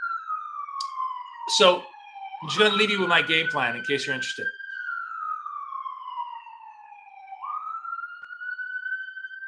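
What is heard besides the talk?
ambulance siren in New York City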